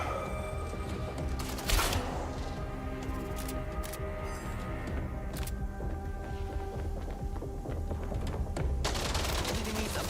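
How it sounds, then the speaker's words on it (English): Rapid bursts of laser gun fire in a video game crackle in dense volleys, with sharp broadband bursts near the start and again toward the end over a steady mechanical game backdrop. "Because it's a laser gun."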